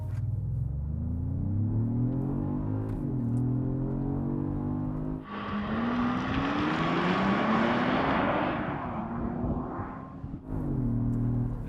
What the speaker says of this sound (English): The new 2025 Genesis GV80 Coupe. With launch control.